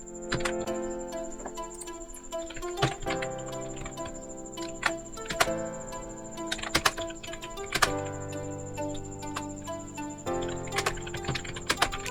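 Typing a resume declaration on a computer keyboard, with a steady run of crisp close key clicks and occasional heavier keystrokes over a faint constant electronic whine, with no talking.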